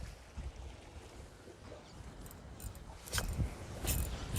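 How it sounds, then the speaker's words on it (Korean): Strong wind sweeps across a seaside fishing spot in Namhae, a rough blustery rush against the microphone with gusts growing louder toward the end. "와 여기도 바람이 엄청납니다"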